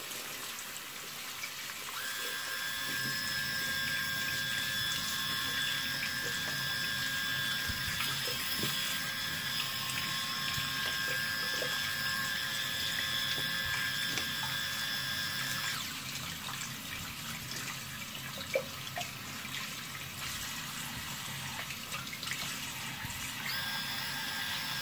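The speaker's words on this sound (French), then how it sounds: "on le passe sous l'eau, on va voir ce que ça tient." A Xiaomi Mijia waterproof electric shaver buzzes with a steady tonal hum while held under running tap water, the water rushing and splashing continuously around it.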